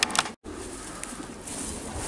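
Pigeons cooing softly in a loft, faint low coos over a quiet background with a brief dropout near the start.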